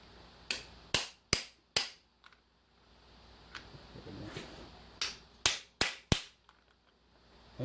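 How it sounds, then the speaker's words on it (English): Seals being driven in with a mandrel struck by a hammer during a 7.3 rear seal and wear ring install: two sets of four sharp, ringing metal blows at an even pace, with quiet handling noise in between. "just set the mandrel in there and drive them in"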